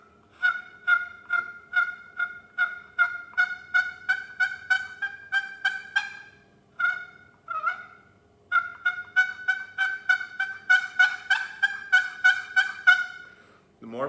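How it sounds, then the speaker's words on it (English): A wooden box turkey call, its paddle stroked to yelp, gives two long runs of quick, evenly spaced, raspy yelps with a short break between them, close and clear with no voices. "If you're new to turkey calling, don't try to use a diaphragm, use a box call."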